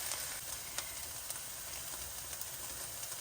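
Diced onions and minced garlic sizzling in a beef-stewed pan on low to medium-low heat: a quiet, steady broadband hiss of frying with faint occasional pops, no voices over it.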